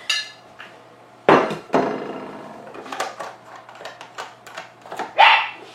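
Takeo, a dog in a home kitchen during crêpe making, lets out several sharp barks spread across the moment, loud and close, mixed with clattering knocks of dishes and utensils.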